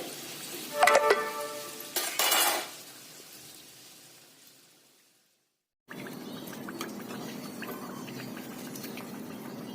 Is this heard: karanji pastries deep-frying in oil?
yes